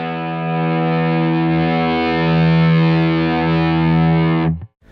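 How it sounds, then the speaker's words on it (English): An electric guitar through a Tonebone Classic V9 distortion pedal, one sustained heavily distorted chord ringing loud and steady before cutting off abruptly. "Next we've got the drive control. This lets you set the overall intensity of the distortion."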